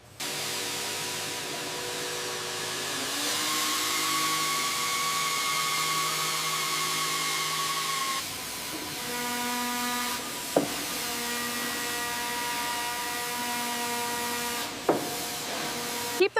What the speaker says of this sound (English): Focusing air on the seams